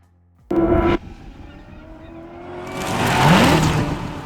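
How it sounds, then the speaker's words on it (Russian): A car engine swells gradually from quiet to a loud, broadband roar, with a brief louder burst of noise near the start. "затем плавно нарастает звук машины"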